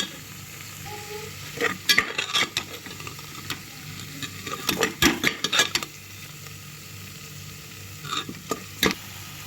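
Spice powder being sautéed and stirred in a pan for a village-style mutton curry, with soft scraping stirs and light sizzling bursts over a quiet frying hiss, no talking.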